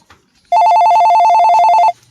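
A telephone rings for an incoming call, one loud, close electronic trill of rapid repeated pulses lasting over a second, with near silence before and after.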